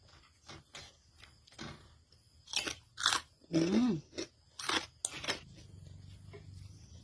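Food eaten with sticky rice gets crunched and chewed close up: a run of irregular crisp bites and chewing bursts, with one squeaky moment in the middle and a quiet stretch after.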